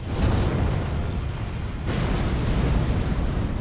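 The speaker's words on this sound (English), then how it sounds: "Wait for the explosion, then jump." A boss stomp explosion in the Elden Ring DLC video game: a continuous loud, deep rumbling blast lasting several seconds, dense and booming with no talk over it.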